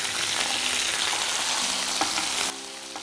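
Small onions fry in oil with fenugreek seeds and curry leaves for a drumstick and potato kuzhambu, giving a loud, continuous sizzling hiss with faint stirring clicks that drops slightly near the end.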